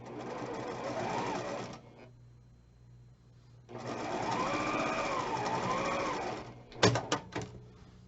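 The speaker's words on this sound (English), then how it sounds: "So I'm going to sew these guys together now." A sewing machine stitches quilt pieces together in two steady whirring runs separated by a quiet pause, followed by a few short clicks and clatters of handling; close and moderately loud.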